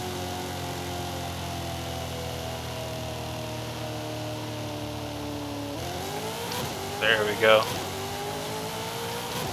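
A turbocharged car at 22 pounds of boost accelerates in a Forza Horizon 5 roll race from about 40 mph, its engine rising steadily in pitch, shifting once and climbing again, loud and close under a brief spoken remark.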